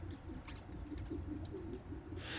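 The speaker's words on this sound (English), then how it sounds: "Those are definitely pigeons." Pigeons coo softly in a park in the Spider-Man Miles Morales video game, several low burbling calls repeating over a faint ambient background with occasional light chirps.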